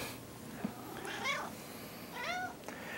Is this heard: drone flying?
no